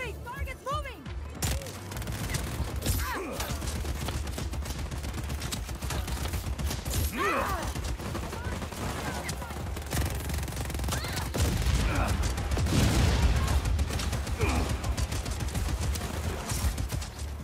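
Rapid bursts of gunfire and fusillades fill a Just Cause 4 airport takeover battle, loud and continuous, with game voices and speech mixed throughout.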